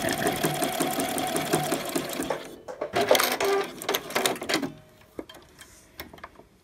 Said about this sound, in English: you want to sew right up against, but not over, the piping part of the elastic